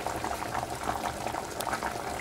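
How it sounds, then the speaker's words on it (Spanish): Chickpea stew with chicken simmers in a pot, reducing as it boils; a close, steady bubbling and popping continues without pause and nobody speaks. "pues seguimos así hirviendo un poco para que reduzca"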